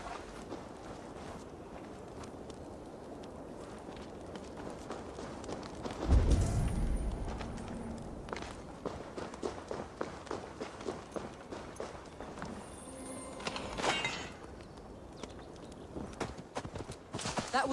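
Horse hooves clip-clopping in the video game Assassin's Creed Valhalla, a steady rhythmic run of hoofbeats over a low ambient game backdrop, with a brief louder thump partway through and the gait continuing to the end.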